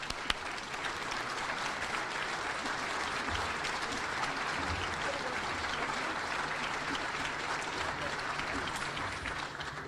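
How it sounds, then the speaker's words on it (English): A large audience at a monthly HASP group program gives a big round of applause, steady dense clapping that fills the whole stretch at an even, sustained level with no pause. "we're going to give these people a big round of applause"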